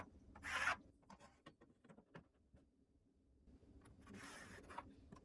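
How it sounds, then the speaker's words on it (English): Frame lines drawn by hand on a wall, heard as two short, scratchy rubbing strokes separated by quieter faint scraping, close and alone without talk. "Then I went ahead and drew the frame on my wall."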